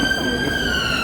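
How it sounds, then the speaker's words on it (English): A continuous high siren tone from an emergency vehicle in central London, steady and fairly loud over a dense city background. "These sirens are freaking me out."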